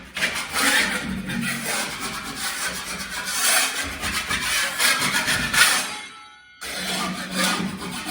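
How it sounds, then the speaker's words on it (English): A 4-inch putty knife scrapes the edges of a hole in a wall in repeated rough, rasping strokes, close and fairly loud, broken by a short pause near the end. "I'm just scraping with my 4-inch knife"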